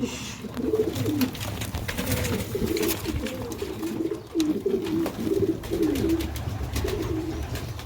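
Rooftop pigeons in Sialkot, kept with their chicks, coo continuously in rolling, repeated phrases close by, over a steady background hum with no talking.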